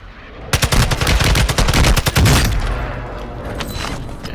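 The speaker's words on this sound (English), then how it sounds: "Yeah, I put a bunch of shots on them." Rapid automatic gunfire in Call of Duty Warzone on Ashika Island, a loud sustained burst of shots for about two seconds, then fading into a lingering echo and ambient noise.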